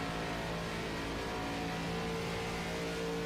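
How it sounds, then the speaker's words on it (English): A race car engine in a VRX racing game at Michigan drones at steady high RPM, a loud continuous buzzing roar with no breaks or talk. "Well, you can hear the RPMs very down on Dan Charles's machine."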